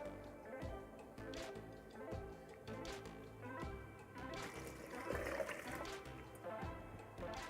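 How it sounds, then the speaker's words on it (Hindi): Water is poured into two glasses holding sugar and black salt for a peach drink, giving a soft, uneven splashing trickle that runs quietly throughout at a low level. "दो ग्लास में इसमें पानी ऐड करूँगी।"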